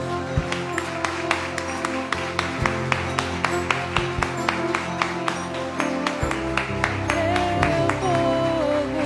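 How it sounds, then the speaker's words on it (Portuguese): Rhythmic clapping from a church congregation at a worship service, steady claps in time over sustained keyboard music and singing, moderately loud throughout. "Vamos aplaudir ao Senhor."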